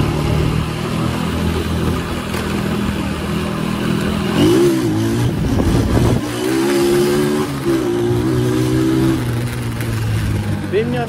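A 150 cc Arora CG motorcycle engine revs steadily while being ridden, with rising and falling throttle sweeps over a continuous mid-pitched drone, close to the microphone, alongside wind rush.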